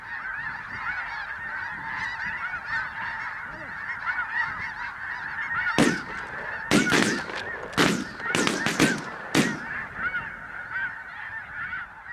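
Snow geese and Ross geese honk in a dense, continuous flock chorus, with a cluster of sharp, loud broadband bursts cutting through partway in, the clamor carrying steadily throughout.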